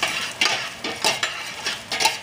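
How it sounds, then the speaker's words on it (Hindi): Carrots sautéing in ghee in a pan, with a steady sizzle broken by about five rhythmic bursts of stirring and scraping, close and moderately loud, no voices. "तो जी सबसे पहले हम कैरेट सौते करेंगे इसमें मैक्सिमम आपने 2 मिनट्स के लिए कैरेट सौते करने हैं।"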